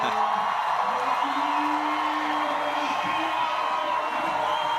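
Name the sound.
Czech crowd shouting at bouldering final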